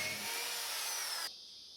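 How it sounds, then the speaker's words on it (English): A power drill boring holes into a stainless steel balustrade anchor post, producing a faint, steady high whine that stops abruptly near the end. "The holes that are currently being drilled are the ones which the saddles will screw into."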